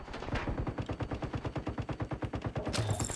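Gunfire in The Division 2, a rapid automatic burst of evenly spaced shots running steadily for about three seconds, loud and close, with no talk over it.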